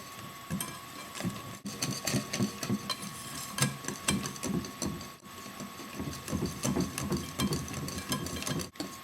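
Chocolate cupcake batter made with coconut flour is mixed in a bowl, giving close, rhythmic scraping and knocking strokes that repeat steadily, with no talking.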